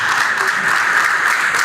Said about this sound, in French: Sous vos applaudissements encore une fois.